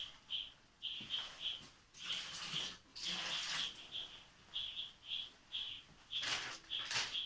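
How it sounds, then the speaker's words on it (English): Vegetables being washed in a bowl of water, with repeated sloshing and splashing in short rhythmic bursts, close by and moderately loud, while birds chirp steadily in the background. "this is how I wash my veggies using this bowl"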